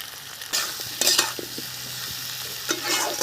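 Chopped tomato with salt and turmeric cooking in a pan for a small-fish curry with vegetables, giving a steady low sizzle broken by several stirring scrapes and clatters, close by with no voices.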